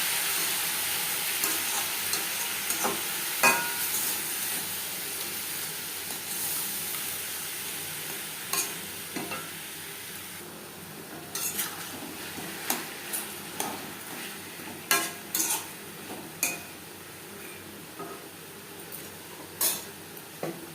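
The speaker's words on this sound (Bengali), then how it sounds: "2 মিনিট ভেজে নেওয়ার পর দিয়ে দেবো গুড়। আমি এখানে আখের গুড় অ্যাড করলাম" Green mango pieces frying with sugarcane jaggery in a pan, a steady soft sizzle beneath scattered sharp clinks and scrapes of a spoon stirring, close and fairly quiet.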